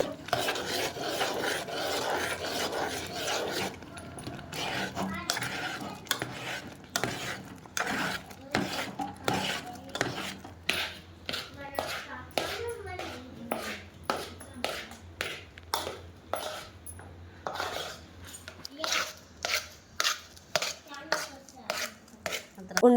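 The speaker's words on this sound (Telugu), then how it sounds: "ఇలా మరుగుతున్న బెల్లం నీటిలో వేసి బాగా తిప్పాలండి ఉండలు లేకుండా నీట్గా తిప్పుకోవాలి" Roasted rice flour being stirred into boiling jaggery water in a pot for a Banjara village recipe, heard as a run of close, rhythmic scraping strokes, some soft and others sharp and clattery, with no talking.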